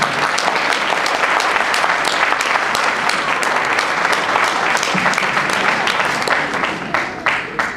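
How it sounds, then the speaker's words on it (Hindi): A mushaira audience gives sustained applause, a dense, steady wash of many hands clapping at once, loud and close throughout with no talk over it. "आपकी भरपूर तालियों के बीच में तालियां"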